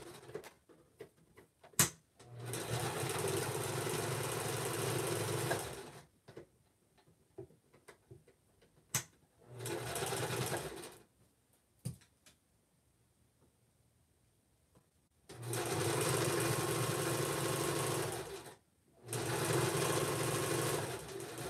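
A sewing machine stitching sweater mittens in bursts of steady whirring, several runs of a few seconds each separated by quiet pauses and small clicks, close and fairly loud.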